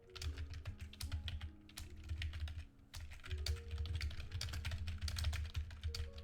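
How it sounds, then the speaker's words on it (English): Steady runs of keystrokes on a computer keyboard, near and soft, with short gaps between flurries of clicking above a faint constant electrical hum. "I'm trying to think of something to talk while I'm typing this out."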